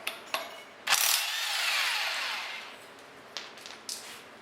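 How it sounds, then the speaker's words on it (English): A ratchet works at a nut on a Toyota Supra transmission during a clutch swap, a few sharp clicks followed by a longer whirring spin and more brief clicks, close and fairly quiet. "See if we can get this nut off now."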